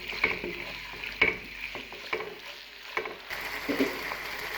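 Chicken fried rice is stirred in a pan, with soft, irregular scraping strokes of a spatula and a faint sizzle, close and quiet.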